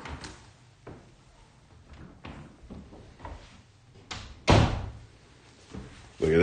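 A wardrobe door and drawer close in a series of wooden thumps and bumps, with scattered knocks and rustles building to a louder slam near the end.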